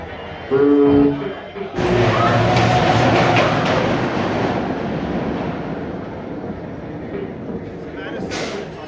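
An amusement park train at Six Flags America clatters and rumbles loudly, with a burst of noise at the start easing into a steady rolling roar, voices faintly under it.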